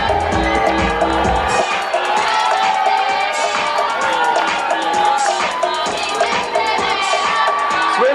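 People cheer in a loud, continuous crowd roar with overlapping shouts and whoops, sustained and close, with some talking mixed in.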